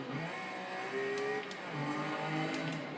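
A 2011 Lotus Evora S engine in the racing game Forza Horizon 2 holds a steady, loud drone with shifting harmonic tones and no voices.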